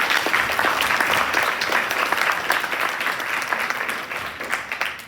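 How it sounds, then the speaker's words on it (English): An audience breaks into steady applause at the close of a talk, dense clapping that holds strong throughout and tapers only slightly near the end, with no voices standing out. "You guys clap?"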